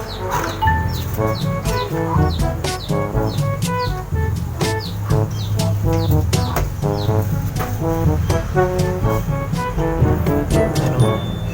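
Fighting roosters and other fowl kept in a yard, with many overlapping chirps, clucks and calls at close to mid distance, a steady busy chorus throughout.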